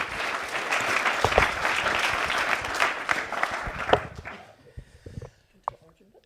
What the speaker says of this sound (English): please, everyone, give Jess a warm round of applause